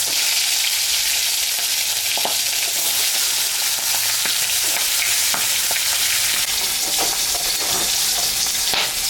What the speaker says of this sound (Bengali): মাছের মাথাটা ভাজবো।